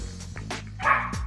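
A small dog at a dog spa lets out several short, close barks and yips in quick succession, clear and fairly loud with no talking.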